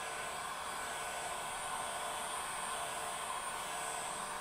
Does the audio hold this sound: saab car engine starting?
no